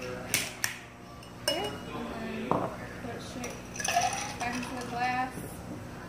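Ice rattling in a cocktail shaker while a mojito with mint and lime is shaken, giving irregular clinks and knocks with a few sharp hits, loud and close, mixed with people talking in the background.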